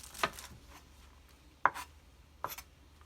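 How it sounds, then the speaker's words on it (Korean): A kitchen knife chops off the base of a bunch of enoki mushrooms for a Korean pickled side dish, landing three crisp cuts on a board, spaced about a second apart, close and without talk. "이 정도로 밑둥을 전부 자르시고요"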